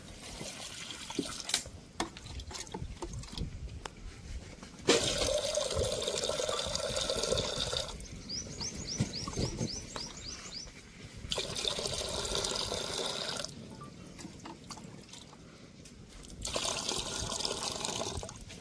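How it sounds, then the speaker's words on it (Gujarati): Water is poured into a cooking pot on a lit stove to boil dal, splashing and filling in several separate bursts with quiet pauses in between. "આપણે એમાં નાખશું પાણી."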